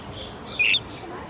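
Small birds in Florida give a brief high squeaky call, one short bright note rising above faint outdoor background hiss.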